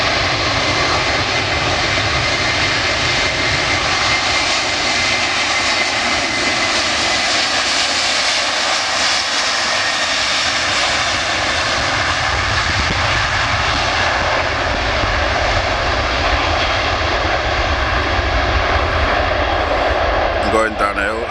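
An Aer Lingus Airbus A330, 13 years old, roars down the runway on takeoff at Manchester Airport, a loud, steady, broadband jet engine rush sustained throughout.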